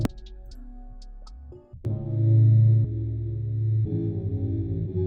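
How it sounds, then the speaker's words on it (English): A dark trap loop slowed by a Gross Beat halftime effect plays alone, with a brief opening of high ticking notes that cuts out, then a thick, heavy, muddy low-end chordal drone swelling and pulsing loudly. "I used halftime, and it sounds like this now."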